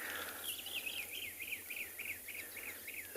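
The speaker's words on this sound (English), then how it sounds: "You just heard a brown-crowned chagra." A brown-crowned tchagra calls from the bush on an afternoon safari, giving a faint, steady series of repeated whistled notes in an even rhythm over a soft, hissing natural background.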